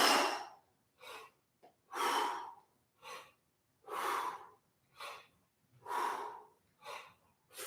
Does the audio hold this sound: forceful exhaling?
yes